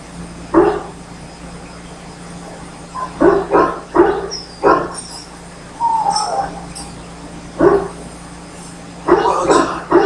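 A sick war hound in Dragon Age Origins barks in short, sharp bursts, some single and some in quick clusters, fairly close and loud over a faint steady hum, with the odd higher whine between barks.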